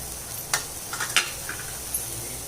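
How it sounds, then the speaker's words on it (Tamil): Ridge gourd peel sautéing in a pan with curry leaves, tamarind and coriander, with a few sharp stirring scrapes over a continuous, moderately loud sizzle. "லாஸ்ட்டாக இந்த கொத்தமல்லி வேலையை சேர்த்து வதக்கிக்கலாம்"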